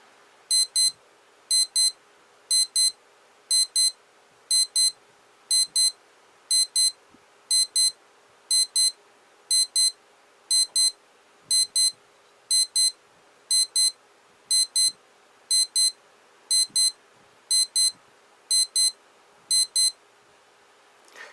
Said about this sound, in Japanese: それでなんでアラームの音を聞いてみましょう。